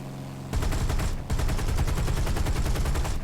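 Rapid aircraft cannon fire from a fighter plane in the War Thunder combat game, loud sustained bursts of rhythmic shots with a brief pause partway through.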